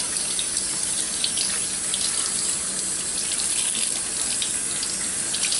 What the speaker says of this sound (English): I take it out and rinse it off good.